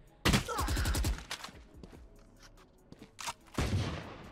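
Gunfire in the Valorant video game, a sharp rapid burst of shots up close followed by scattered quieter in-game sounds and another loud burst near the end.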